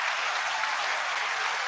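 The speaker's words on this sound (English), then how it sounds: "a big round of applause for Scoot McNairy" A live studio audience at a talk show claps in a dense, steady burst of applause that holds at an even level throughout, with no voices over it.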